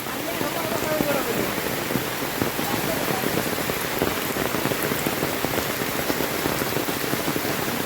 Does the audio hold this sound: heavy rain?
yes